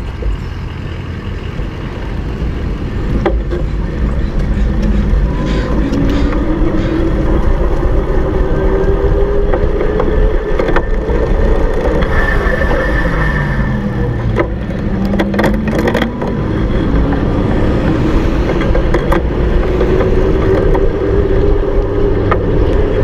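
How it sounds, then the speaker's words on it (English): A RadWagon electric cargo bike rolls along a bike path, its hub motor giving a faint rising and falling whine over loud, steady wind and road rumble, with occasional clicks from shifting gears. "I'm trying to get you as close to that motor as possible. It's super quiet"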